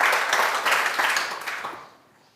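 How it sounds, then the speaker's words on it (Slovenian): Audience applause fills a business awards ceremony for the business leaders of the year, a dense burst of clapping that holds steady and then fades away. "En aplavz si zasluži tako razmišljanje."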